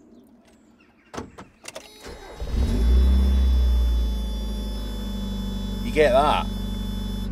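A Mazda Miata's door warning buzzer sounds as a steady high tone while the engine cranks and settles into a loud idle rumble, with a short spoken question near the end.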